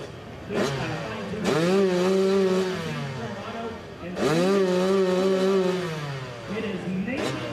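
Harley-Davidson motorcycle, the number 94 bike ridden by Nathan Preeb, revving at a hill climb event, its engine rising and falling in two long loud pulls and a shorter blip, with a commentator talking over it.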